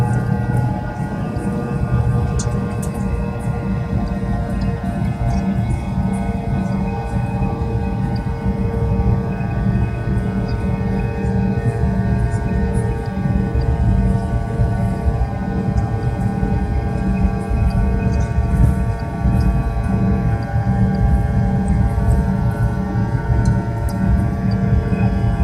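Fokker 100 jet airliner engines run up for takeoff, a loud, steady cabin roar with layered hums and whines that holds constant for about twenty-five seconds.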